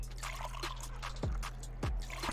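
Beer pours slowly from a bar tap in the Brewpub Simulator game, a steady liquid trickle over a constant low hum, with two brief sliding tones partway through.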